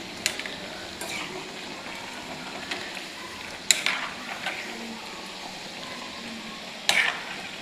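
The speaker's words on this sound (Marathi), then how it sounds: "छान सोनेरी रंग येईपर्यंत तळून घ्यायचं आहे." Muthe dumplings frying in oil until golden, a soft continuous sizzle with a few louder clinks and scrapes from a utensil, no talking.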